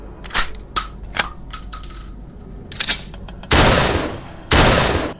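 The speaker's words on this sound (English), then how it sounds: "Beaumont draws his shotgun and silently begs for the favour of Lady Fortune" Shotgun blasts firing dark stone shells: a scatter of sharp, clicking gunfire reports leads into two loud, sustained booming bursts near the end, with nobody talking.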